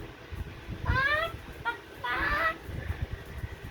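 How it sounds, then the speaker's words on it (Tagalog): Two short squawking chicken calls sound close and clear over a faint background. "Fourth is a chicken."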